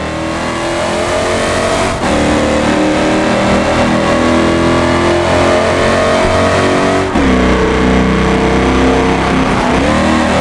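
A Ford Mustang engine in BeamNG.drive revs hard and loud, climbing through rising pitch sweeps with brief drops at gear changes before pulling up again, with no voices over the roar.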